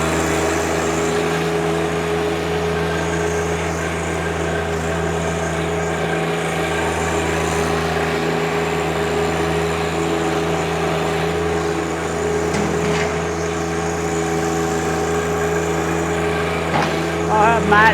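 A 2020 John Deere 1025R sub-compact tractor loader backhoe with belly mower runs in high range, its engine a steady continuous drone heard close up, with little change in pitch throughout.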